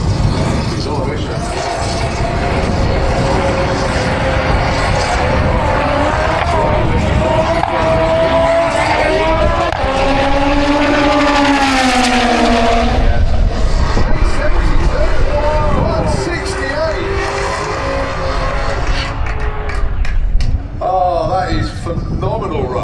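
A front-wheel-drive Ford drag racing car makes its run at Santa Pod, its engine roaring and rising in pitch over loud crowd noise while a commentator talks over the action.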